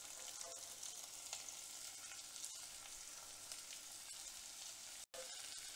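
Finely chopped small onions sauté in hot oil in a pan for chicken sukka, a faint, steady frying crackle with light stirring scrapes throughout and a sudden brief dropout near the end, no speech.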